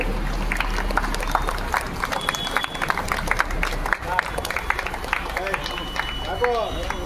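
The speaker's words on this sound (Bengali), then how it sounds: "সবাই একটু হাততালি দেবেন।" An audience at a community ambulance service event in Dubrajpur claps in scattered, uneven bursts of hand claps, with voices talking throughout and some crowd murmur behind.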